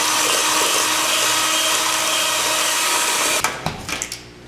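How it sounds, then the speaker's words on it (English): An electric mixer whirs loudly and steadily as it beats eggs with sugar for Trinidad-style non-alcoholic eggnog, then cuts off near the end, leaving a few knocks and clatters. "we are going to add the sugar and continue beating the eggs for 2 to 3 minutes"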